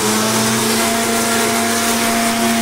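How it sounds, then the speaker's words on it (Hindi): An electric mixer grinder runs loud and steady at home while golgappa pani ingredients are prepared, a continuous whirring motor hum filling the whole stretch with no talk over it. "और ये अब मिक्सी होने वाली चालू"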